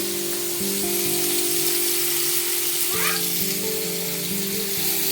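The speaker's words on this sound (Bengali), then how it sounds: "তো দেখো আলুটা এখন ভাজছি।" Potatoes fry in a pan with an even, hissing sizzle that stays at a steady level, joined by a faint background hum and a brief rising squeak midway, with no speech.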